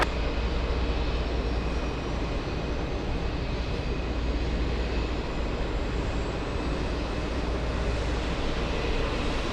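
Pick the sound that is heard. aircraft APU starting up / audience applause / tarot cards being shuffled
aircraft APU starting up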